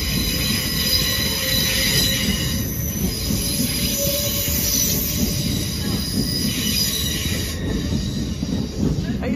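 Trains at Doncaster station run loudly and steadily throughout, with sustained wheel squeal and rumbling rail noise close by and no voices.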